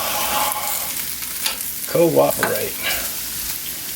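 Sausage pieces frying and being stirred in a pan, a loud close sizzle with spatula scrapes and a brief spoken word partway through.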